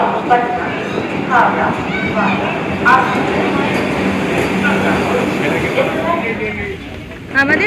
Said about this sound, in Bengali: সবাই অলরেডি ট্রেনে উঠে বসে রয়েছি বন্দে ভারত ছেড়ে দিয়েছে